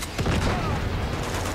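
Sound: rocket launcher fire in the video game Uncharted 2

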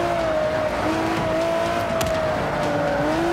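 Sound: cars drifting in Forza Motorsport 5 video game

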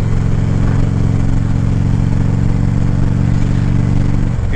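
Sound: motorcycle riding at night

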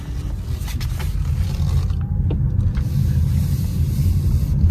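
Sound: 2022 Toyota Corolla Hybrid car driving

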